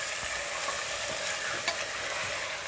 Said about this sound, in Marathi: आता आपण त्यामध्ये मटण घालूया. आणि मटण चांगलं परतून घ्यायचं आहे.